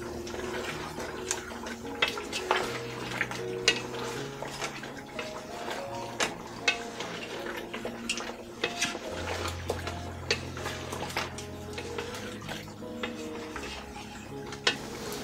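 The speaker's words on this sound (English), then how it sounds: "And I'm going to mix well." Chicken curry being mixed in a pot, with a spoon scraping and knocking against the metal in irregular clinks and rattles over a wet, thick stirring sound, close and steady for the whole stretch, with no talk.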